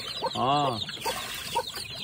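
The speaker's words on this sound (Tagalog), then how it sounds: "inahin na halos nasa 20 ang sisiw" A mother hen with about 20 chicks gives a drawn-out, wavering cluck that rises and falls, with a few softer clucks and chick peeps around it in a quiet outdoor setting.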